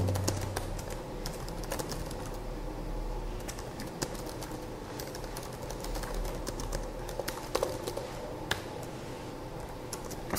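Keys clattering on a computer keyboard while a shell script is written, a steady stream of soft close clicks running throughout without talk.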